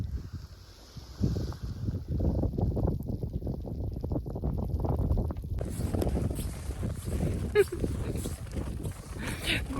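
Wind gusts across an open snowy field in Komi, Russia, rumbling and buffeting the microphone in strong, uneven bursts, with a brief lull before the blowing intensifies.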